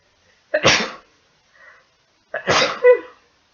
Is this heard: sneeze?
yes